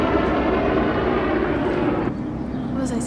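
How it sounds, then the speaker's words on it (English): A helicopter flies overhead near an airport, its steady, loud, broadband engine and rotor roar filling the scene before easing slightly toward the end, with a person talking beneath it. "That's a helicopter"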